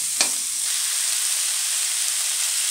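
Tempering spices sizzle steadily and loudly in hot oil over a high gas flame for potato sukka (batate sukka), with a brief crackle near the start and no voices.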